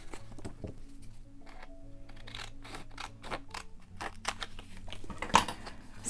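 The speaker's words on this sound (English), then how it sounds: "I am going to take these, cut them in half, approximately." Paper die cuts from a paper pad being snipped in half with scissors, a run of quick, close, crisp cuts with a few louder snips near the end, heard alone without talk.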